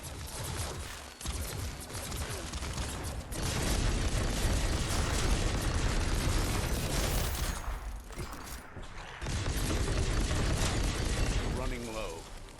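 Explosions and blasts in the action game Biomutant, a loud, dense barrage of booms and bursts filling most of the stretch with short dips between, with a person talking over parts of it.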